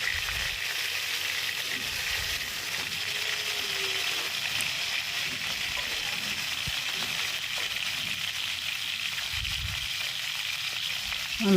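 Bombay duck (lote) fish frying in hot oil gives a steady, close sizzle that runs without a break, with light bubbling and a few soft clinks of the pan mixed in.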